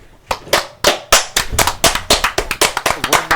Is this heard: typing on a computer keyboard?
no